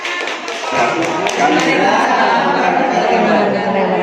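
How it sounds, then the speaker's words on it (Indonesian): Indoor clapping from a workshop group, a dense patter of many hands filling the room at steady loudness, with some chatter mixed in. "tepuk tangan, tepuk tangan."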